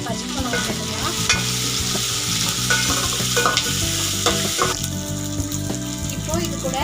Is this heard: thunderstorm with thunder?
no